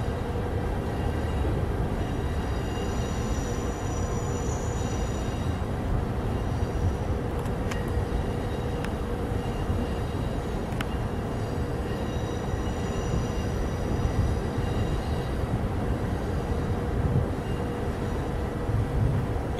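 A Trenitalia regional train pulls into a station platform with a steady rumble of wheels and engine, faint metallic squeals, and a continuous dense roar throughout.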